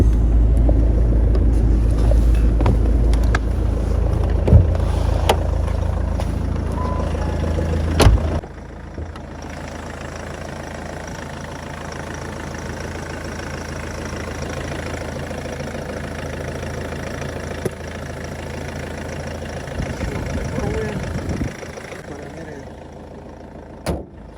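A 2013 Ford Mondeo engine idles loudly with a steady low rumble for several seconds, then cuts to a quieter background with occasional clicks and soft talk.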